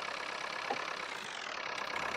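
A Fordson Power Major diesel tractor engine idles steadily nearby, a continuous rough, even drone with no talk over it.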